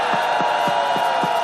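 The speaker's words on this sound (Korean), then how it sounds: "여러분 뜨거운 박수 좀 보내주세요" An audience at a Korean public speech applauds, a dense wash of clapping and crowd noise with a few heavier rhythmic beats, loud and close.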